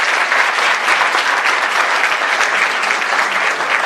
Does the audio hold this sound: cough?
no